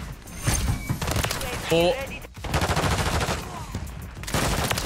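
Lockwood 680 rifle shots in a first-person shooter ring out as sharp bursts amid game noise, while a player talks over the action.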